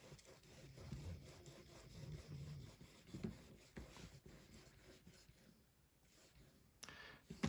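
A Cold Steel 4-Max Scout knife is sharpened on an Edge Pro Apex stone, with faint, close, repeated rasping strokes in an uneven rhythm and a few light clicks.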